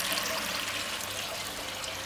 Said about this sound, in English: There's water just overflowing.